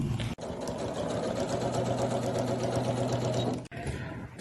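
A sewing machine runs steadily, stitching a zigzag or long straight seam along the fabric edge of a double-sided bread basket, a continuous close motor whir with brief pauses at the start and end.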